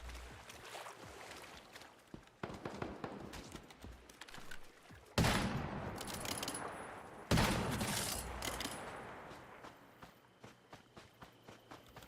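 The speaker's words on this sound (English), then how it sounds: "He's shooting at me." Enemy gunfire in the video game Once Human comes as dense, continuous bursts of rapid shots, with loud cracks standing out amid a busy mix of game noise.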